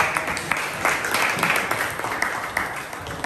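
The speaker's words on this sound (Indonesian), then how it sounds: "Kita berikan tepuk tangan untuk" Students in a classroom break into applause, a dense round of clapping with some sharp individual claps, loud and close, tapering slightly toward the end.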